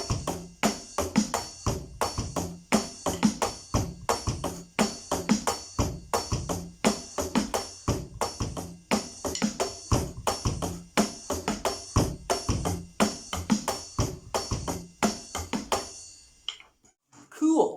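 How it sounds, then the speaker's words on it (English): Drum kit groove with the right hand moving back and forth between hi-hat and ride cymbal, crisp steady cymbal strokes over kick and snare hits, played close and loud, then stopping abruptly near the end. "Now we're going to take the right hand and shift it between the hi-hat and the ride."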